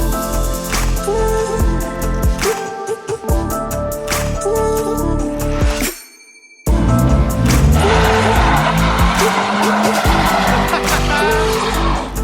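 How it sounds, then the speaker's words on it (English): A Hyundai Genesis Coupe doing a burnout, its engine revving hard with rising, falling pitch while the rear tire squeals loudly, a brief drop to silence midway, then the engine and screeching tire return close and loud. "You lit up the back tire like a little bit, but we need to see you light up the back tire like a lot bit"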